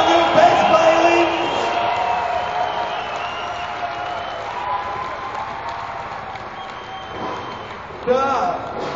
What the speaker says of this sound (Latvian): Vēlreiz aplausi elastīgajam spāņu bezbailīm.